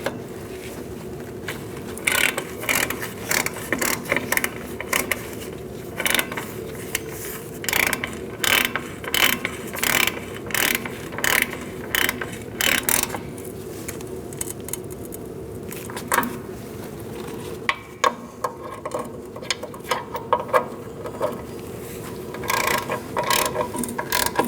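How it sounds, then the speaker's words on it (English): A ratchet wrench tightening a brake line fitting on a 2004-2012 Chevrolet Colorado during wheel cylinder replacement: long runs of close, rapid metallic clicks with brief pauses between strokes. "And now we're going to continue tightening down our line."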